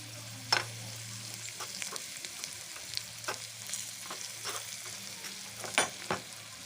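Tempering spices for amaranth-leaf moong dal (thotakura pappu) sizzle quietly in a pan as they are stirred, with a faint, soft crackle under scattered scrapes and taps of the spoon.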